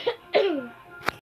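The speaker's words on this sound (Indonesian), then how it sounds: "Etika batuk yang kedua" A person coughs while demonstrating proper cough etiquette, giving two close, throaty coughs with a voiced rasp, then a single short, sharp cough after a pause.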